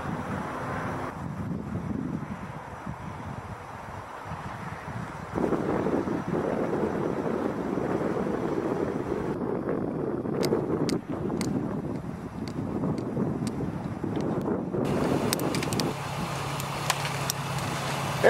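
Steady wind blows outdoors beside a lake at dusk, a continuous rushing roar buffeting the microphone, with a few faint ticks and shifts in strength throughout.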